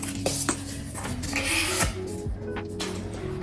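A tool scrapes glue along a paper Easter vanity gift box, giving short rasping, clattering strokes close by with a few sharp knocks and no talk.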